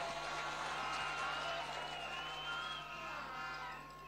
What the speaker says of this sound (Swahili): Makofi kwa raisi na mama wa taifa